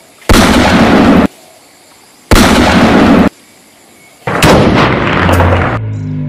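A toy Uzi gun fires in three loud, crackling bursts of about a second each, separated by short pauses, the last burst trailing into a rattling, uneven tail.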